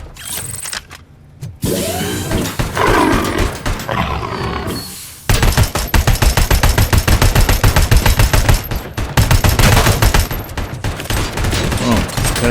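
Loud, rapid bursts of heavy .50 cal gunfire ring out in the RoboCop Rogue City video game, a dense, continuous rattle of shots after a brief quieter lead-in with game roars and effects.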